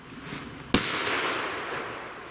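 A Kometa PP1 firecracker explodes outdoors with a single sharp, loud bang, its echo and rumble trailing off for over a second afterward.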